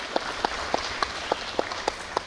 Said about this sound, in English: Really, we can give a clap.